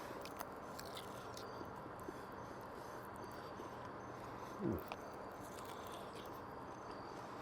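A single brief crunchy bite into a boiled-then-grilled chicken wing from a pellet grill, quiet and close, followed by a little soft chewing against a faint steady background hiss.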